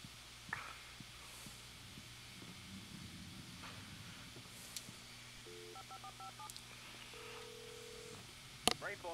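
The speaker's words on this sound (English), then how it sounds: "Ah, phone." In the video game Alan Wake, a telephone sounds in short electronic tone bursts partway through, faint under steady room hiss and low game ambience.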